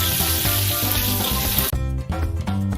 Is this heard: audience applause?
no